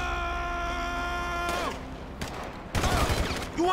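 Gunfire from a firefight in the video game GTA V, with bursts of shots and broadband cracks breaking through a tonal music or ambient bed, louder volleys clustered near the end.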